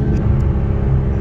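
Heavy, continuous engine rumble from a 650 AWHP Nissan R35 GT-R at speed around 90 mph, dense low-end drone with steady loudness, close and dominant inside the car.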